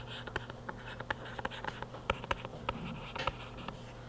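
Pen or marker writing an equation on a board, a run of short scratchy strokes and taps in irregular rhythm, close and clear with no talking over a steady low hum.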